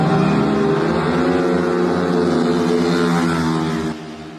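Several motorcycles race across the Wanda Bridge between Kaohsiung and Pingtung, engines revving loudly with rising and falling whine, close and continuous, fading slightly toward the end.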